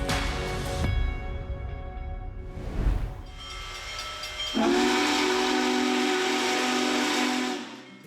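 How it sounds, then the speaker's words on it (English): The world's largest operating steam locomotive sounds a loud, sustained steam whistle with several harmonic tones, preceded by bursts of hissing steam and rumble, the whistle holding steady for about three seconds before cutting off. "the world's largest operating steam locomotive"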